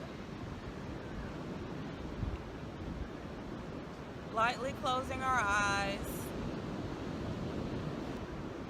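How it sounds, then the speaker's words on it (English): Steady wash of ocean waves breaking on a shore, a soft continuous surf rolling on throughout, with a calm voice speaking briefly over it midway. "enjoying the sounds of the waves in the back"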